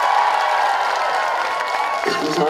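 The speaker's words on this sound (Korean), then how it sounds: "박수 한 번만 주시겠어요?" Applause and cheering from a large outdoor crowd at a summer festival concert in Mungyeong, a dense, steady wash of clapping and voices that carries on without pause.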